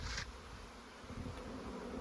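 Honeybees buzz in an opened hive during spring queen rearing, a steady, close, even hum that fills the whole stretch with no voices.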